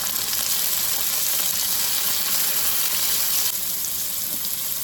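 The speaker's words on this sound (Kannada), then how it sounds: "ಮತ್ತು ನೋಡಿ ಆನಿಯನ್ ಹಾಕ್ಕೊಳ್ವ. ಇದು ಸ್ವಲ್ಪ ಫ್ರೈ ಆದರೆ ಸಾಕು, ಜಾಸ್ತಿ ಆಗಬೇಕಂತಿಲ್ಲ." Chopped onions frying in oil for a prawn and spinach masala curry, a dense steady sizzle with a watery hiss running evenly throughout, close, with no talk.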